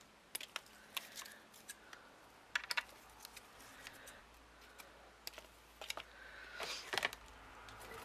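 Quiet, close snips and clicks of scissors cutting, irregular crisp bursts spaced across the clip with a soft background hiss.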